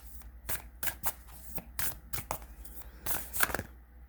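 Moonology oracle cards being shuffled by hand, a run of crisp riffling bursts repeating every half second or so, close and fairly quiet, with a denser flurry near the end and no talking.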